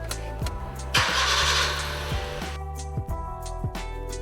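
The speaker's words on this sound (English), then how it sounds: "Start the engine and run it for a few minutes." A car engine cranks and catches, then settles into a steady idle with a few rhythmic ticks, close by and alone.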